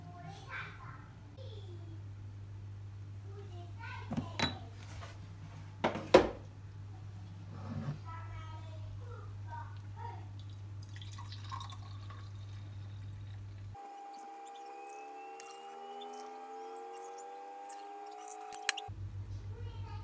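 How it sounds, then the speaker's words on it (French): Homemade yogurt mixture, two litres in all, is poured into the pots of a yogurt maker in a home kitchen, giving a soft, close pouring and trickling sound with a few light clinks, heard under a speaking voice. "je vais pouvoir verser dans les yaourts"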